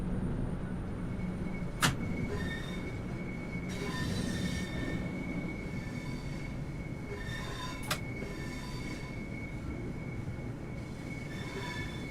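A train pulls into Rochester station in the Train Sim World 2 simulator, a steady rolling rumble of railcars with sustained wheel squeal and two sharp metallic clanks, no voices.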